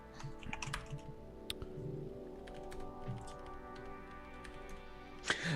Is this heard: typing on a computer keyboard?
yes